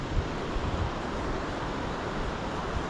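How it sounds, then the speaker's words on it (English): Strong wind surges through trees in a valley beside a brook, a steady broadband roar with low buffeting gusts. "You can hear the power of the wind blowing through these bloody trees."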